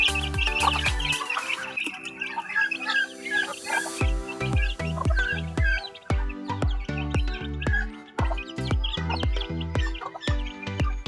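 Farmyard chickens in a rural Philippine province cluck steadily while being fed, with repeated rhythmic calls and excited higher chirps, close by and continuous.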